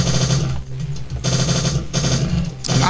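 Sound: gunfire from the video game Strife

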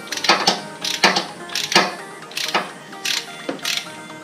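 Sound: spark plug wrench loosening spark plug on Yamaha Nmax

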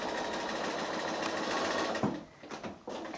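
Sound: sewing machine stitching a quilt block seam

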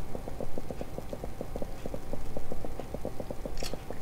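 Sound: footsteps in the video game Minetest, sounding like a horse

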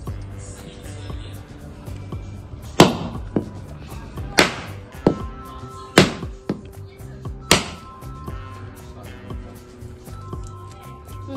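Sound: coconut being cracked open for Ganesh immersion ritual

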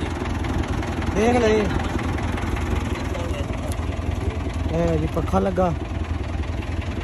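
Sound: New Holland tractor engine idling

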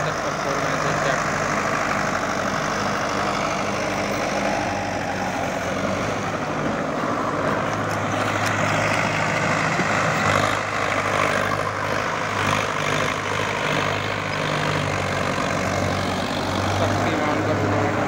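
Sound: tractor engine running with rotavator

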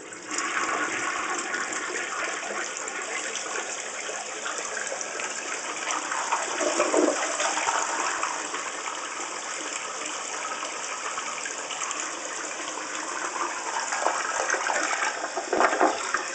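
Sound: Lamosa Sanara toilet double flush

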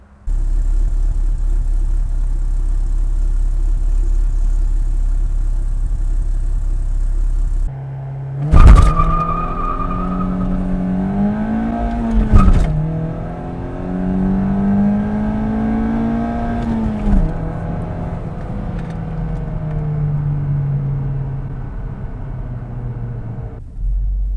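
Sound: Opel Astra OPC racing on track

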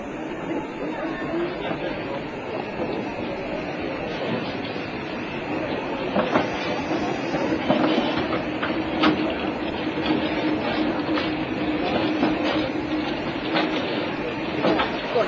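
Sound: steam tram train arriving at the terminus

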